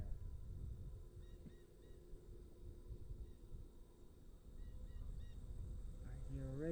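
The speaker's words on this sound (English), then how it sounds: "I hear a raven." A raven calls at the Town of Knox Wetlands in New York: a few short, harsh calls sound faint and distant over a steady low wind rumble, with a louder call near the end and no talking.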